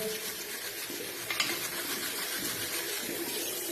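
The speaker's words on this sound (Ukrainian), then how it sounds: "Добре промили під проточною водою." A hydrogen-water ionizer thermos is rinsed under a running tap: a continuous, even splash of water over metal with a faint clink partway through, and no voices.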